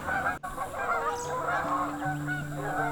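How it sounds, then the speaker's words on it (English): A flock of geese honks repeatedly, overlapping calls clustered together at moderate distance, with a brief thump early on. "You'll hear that flock of geese."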